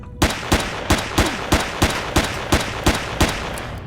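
A small gun in the video game Empyrion fires about a dozen evenly spaced, sharp shots in quick succession, loud and close with no talk.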